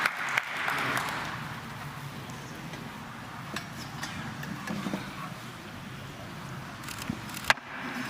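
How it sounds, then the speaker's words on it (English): Audience applause for a competitor at a CYBATHLON event, heard as a moderate, fairly distant patter of clapping that swells briefly early on and then continues more softly, with scattered louder claps. "that's why he's getting a big round of applause"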